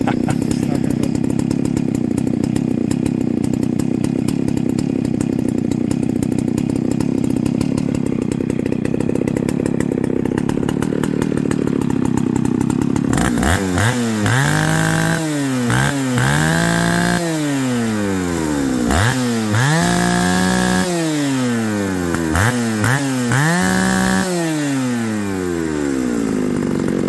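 A Homelite 540 chainsaw runs at a steady loud idle, then is revved hard repeatedly, its engine whining up and dropping back in several rising and falling bursts, close by.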